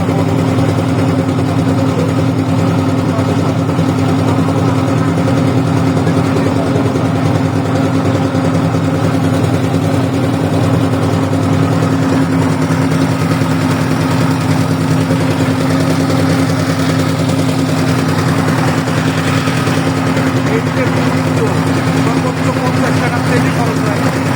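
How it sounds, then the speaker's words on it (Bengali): A boat's engine drones steadily and loudly on a boat trip toward Sadapathar, a constant idling rumble with vibration filling the whole stretch. "নৌকা আসছে যাচ্ছে আমরা যাচ্ছি নৌকা একটা আসতেছে"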